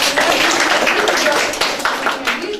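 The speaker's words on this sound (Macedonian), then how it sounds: "Ако може да аплауз за втората група." An audience claps for the second group at a practical work exam, a dense, steady burst of applause that lasts the whole few seconds, with voices mixed in.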